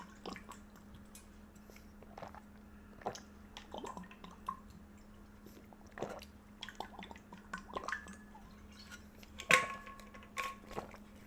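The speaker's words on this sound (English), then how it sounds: "I'm gonna take a sip of water again." A person takes sips of water from a drinking vessel in a quiet indoor setting, with faint wet slurps, small swallowing clicks and drips scattered across several seconds over a steady low hum.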